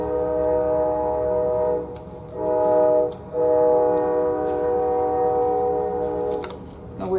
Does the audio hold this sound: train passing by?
yes